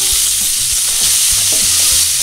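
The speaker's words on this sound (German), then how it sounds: "Und wie gesagt, leicht anbraten." Strips of beef fillet fry lightly in a pan, a loud, steady sizzle with soft stirring knocks and scrapes repeating underneath, and no talking.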